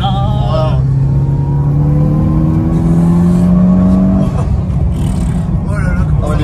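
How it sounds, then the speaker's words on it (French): A Mitsubishi Lancer Evolution VIII rally car engine drones loudly and rises in pitch as it accelerates, then drops and climbs again, with a voice talking over it. "tu sens que t'es vraiment dans une voiture de course"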